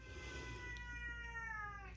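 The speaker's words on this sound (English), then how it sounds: "my cat's crying to go out" A house cat gives a long, drawn-out, wavering meow wanting to be let outside, fairly close over a low background hum, with no talking.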